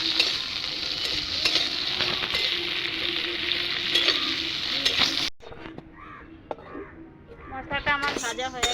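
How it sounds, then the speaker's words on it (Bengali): Nuts, dried chillies, cardamom, cinnamon and pepper fry in oil with a loud crackling sizzle and rhythmic stirring taps, which cut off abruptly after about five seconds to quieter sounds and a voice. "বাদাম শুকনো লঙ্কা এলাচ দারচিনি গোলমরিচ আমি এগুলো একটু তেল দিয়ে ভেজে নেব"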